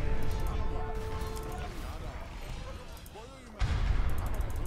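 In an Age of Empires 2 battle, cannon fire thuds repeatedly amid game effects and a loud continuous din, with a heavier blast near the end and voices talking over it.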